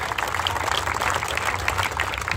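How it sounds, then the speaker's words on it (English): An audience at a stock car racing event applauds a retired driver, with brief, fairly faint clapping heard from a distance. "Give Roger a nice round of applause"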